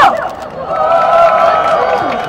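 A crowd of fans at a mini fan meeting for Music Bank cheers and applauds in a loud, sustained wash of noise, with a high sung or shouted voice running over the top throughout.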